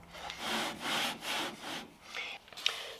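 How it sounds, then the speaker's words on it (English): A machine cutting the painted surface off old MDF, heard as a few long rasping, abrasive strokes that rise and fall in rhythm, close but moderate in level, ending with a small knock and no talk. "I'm just machining that surface off so it's nice and flat."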